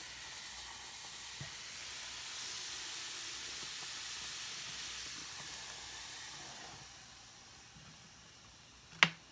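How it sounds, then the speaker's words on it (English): Vinegar poured into a drain makes a steady soft fizzing hiss that builds and holds for several seconds, then fades, ending with a sharp clunk. "I'm gonna pour this like straight into it fast because it's gonna sizzle."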